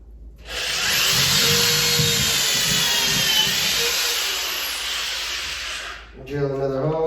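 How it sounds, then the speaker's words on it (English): A power drill bores a hole into a wall to mount a 75-inch TV, whining loudly and steadily for about five seconds before it stops, followed by a brief clatter. "Drill another hole."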